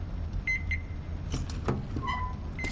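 Short electronic beeps from a supply detector in Metro Exodus, a few brief tones scattered over a low rumbling in-game background.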